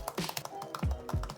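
Light, quick clicking of keys on a 2019 MacBook Air's third-generation butterfly keyboard, with a few soft taps and some low thumps close to the mic.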